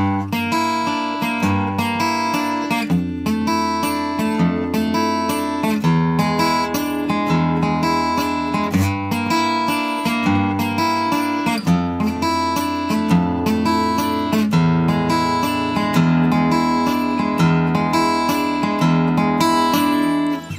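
A guitar strums and picks a steady, bright chord progression from the chorus of a song for the whole stretch, rhythmic and continuous with no voice over it.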